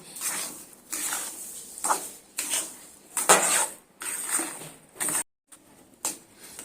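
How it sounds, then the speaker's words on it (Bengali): A spoon scrapes and clatters against a pan while stirring chana dal halwa with sugar, salt and ghee. Close, repeated stirring strokes come in bursts with short pauses, and no one speaks. "চিনি আর নুনটা আর ঘি দিয়ে ডালের সঙ্গে এইভাবে এবার অনবরত নাড়তে থাকব"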